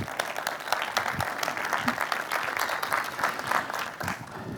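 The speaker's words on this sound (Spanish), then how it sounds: "Por favor, un aplauso." A conference audience applauds, with dense, steady clapping from many hands filling the room for several seconds without a break.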